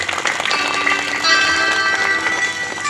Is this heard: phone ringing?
no